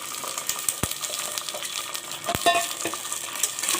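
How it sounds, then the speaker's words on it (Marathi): Ivy gourd (tondli) pieces fry in hot oil with a steady, loud crackling sizzle, punctuated by sharp metallic clinks of a spoon against the pan while the pieces are stirred. "ही जी तोंडली आहे ती तेलामध्ये आपल्याला थोडीशी फ्राय करून घ्यायची आहे"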